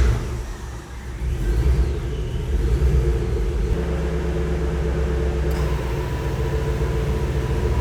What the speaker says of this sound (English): I'm gonna fire up the truck and see if the AC will come on.